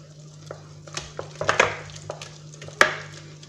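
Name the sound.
mixing chocolate cake batter with eggs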